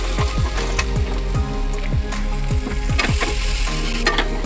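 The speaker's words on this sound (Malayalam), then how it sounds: "അടുത്തായിട്ട് നമുക്ക് കൊച്ചുള്ളി ഇട്ട് കൊടുക്കാം. ഇപ്പോൾ ഇത് ഒന്ന് വഴറ്റിയെടുക്കുകയാണ്." Small shallots sautéing in a pan, a dense close sizzle punctuated by rhythmic scraping strokes of a spatula roughly every half second, heard alone.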